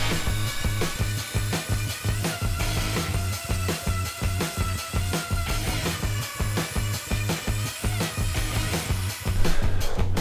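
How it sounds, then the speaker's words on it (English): A random orbital sander works steadily over a wooden plaque on a multi-purpose table, giving a loud, dense, continuous whir with a fast rhythmic buzz. "break out the random orbital sander for everyone's favorite"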